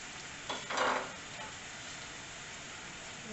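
Jalapeño sautéing with onion and garlic for shakshuka: a brief scrape of stirring near the start, then a soft, steady sizzle from the pan.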